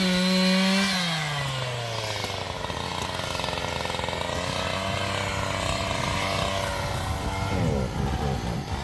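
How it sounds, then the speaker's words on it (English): A chainsaw engine revs up and then roars steadily as it cuts down trees, loud and close, its pitch wavering slightly under faint background noise. "So this is a guy with a chainsaw and he's cutting down the trees."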